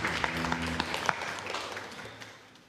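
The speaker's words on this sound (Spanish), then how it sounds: "Y eso se merece un aplauso." Applause from the congregation during a Sunday Mass, scattered clapping with a few sharper claps that gradually fades out, mixed with a brief voice near the start.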